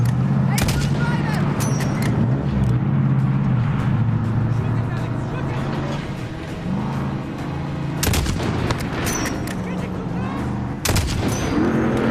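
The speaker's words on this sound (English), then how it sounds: "Stop that truck, Alex! Hit the truck now!" Gunfire aimed at an approaching truck in the video game Call of Duty Modern Warfare, with repeated loud shots and blasts over a steady engine rumble and music.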